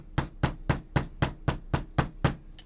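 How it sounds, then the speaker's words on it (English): A nylon hammer taps the tip of a 20 gauge wire earring leaf to harden it, striking nine times in a steady, even rhythm, close and clear with no talking. "I'm going to harden the tip of my leaf just a little bit with my nylon hammer"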